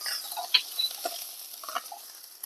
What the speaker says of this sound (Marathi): टोमॅटो मऊ तोपर्यंत परतून घेऊया